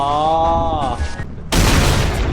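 A loud, dense burst of explosive noise erupts partway through, following a stretch of harmonic tones and game sounds in a Thai misty creature survival game, then roars on steadily to the end.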